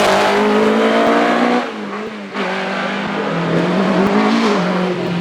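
A Mark 21-24 Clubman's race car built by Arthur Mallet accelerates hard up the Shelsley Walsh hillclimb, its loud close engine note rising through the gears with a brief dip mid-run.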